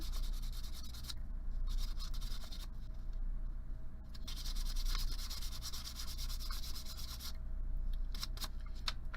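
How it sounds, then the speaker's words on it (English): Metal bracelet edge being smoothed with 320-grit sandpaper, a steady close rubbing rasp that runs continuously with brief changes in stroke intensity, no voices. "I'm going to take my 320 sandpaper and I'm just going to go around the edge, smooth that down."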